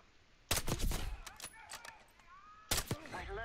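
Sharp gunshots from the Black Ops 6 campaign mission Hunting Season, a cluster of rapid cracks followed by a second burst about two seconds later, with game ambience and faint tonal sounds between.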